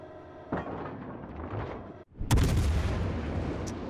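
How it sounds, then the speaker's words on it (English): Warship guns in a video game fire a full salvo: a sharp boom near the start, a ringing tail, a brief drop, then a louder, heavier blast that rolls on in a sustained rumble. "see how that third gun hits the rock when I fire that full salvo?"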